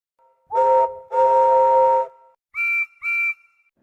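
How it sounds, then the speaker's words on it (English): Two train whistles sound in turn: a lower one in a short and a long blast, then a higher one in two short toots. "Just then, they heard two whistles."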